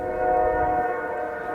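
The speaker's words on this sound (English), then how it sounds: "Train has appeared on that rail, on that close rail." A train rumbles along the close rail track nearby, a steady loud drone with a sustained tonal horn-like hum over low rumbling, continuous for the whole moment.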